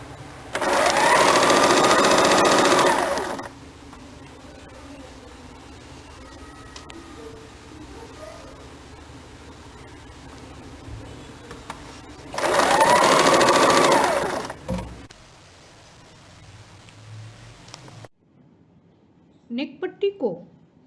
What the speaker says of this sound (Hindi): कंधे के ऊपर दोहरी सिलाई कर ले